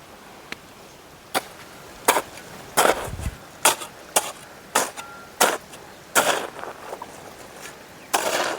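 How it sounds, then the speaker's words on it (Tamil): A hoe chops into soil in a farm field where greens are being sown, with about a dozen sharp, close strikes spaced roughly half a second to a second apart over quiet background. "அம்மா எதுக்கு கொத்திட்டுக்கிறீங்க?"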